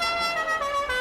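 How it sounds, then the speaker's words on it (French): Car horn sound effect on a TV game show, one sustained bright honk blaring loud for about a second with no talk over it. "Ah oui, c'est le bon klaxon."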